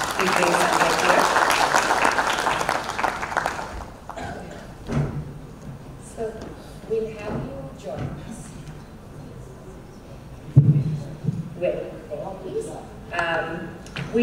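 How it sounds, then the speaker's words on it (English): Audience applause at a tech awards ceremony, a dense burst of clapping for about four seconds that then breaks off into scattered stage noises and a voice speaking. "We'll have a round of applause while we bring Sanjay ji up."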